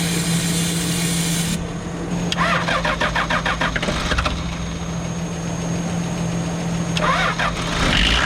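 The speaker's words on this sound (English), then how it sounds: "we've got to use a little bit of this engine startup just to get it to fire" A Toyota Land Cruiser HJ45 diesel with non-working glow plugs cranks with a rapid starter whir in two long bursts, helped by engine starting spray. It catches and runs rough and loud nearby, with no talking.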